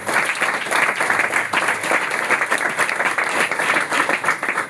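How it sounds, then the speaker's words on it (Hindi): Loud, sustained audience applause at a marketing conference, many hands clapping in a thick, continuous roar that stays steady throughout. "जितने लोग जानते हैं इनको जरा एक बार जोरदार ताली बजाओ"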